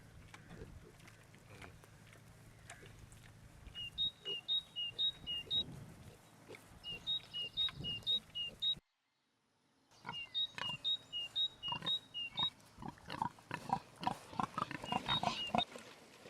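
A sow and her pigs outdoors on a farm, repeated grunts and snorts in bursts, with a short silent gap partway through and faint background sounds.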